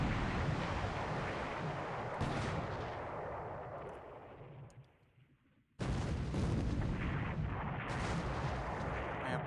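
Sixteen-inch battleship guns firing in the naval video game War in the Pacific, a dense barrage of heavy booms with a short lull before another loud salvo crashes in, no one talking.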